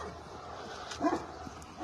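Dogs barking by a pond outdoors, a couple of short yaps rising briefly from a low, quiet background of ambient noise.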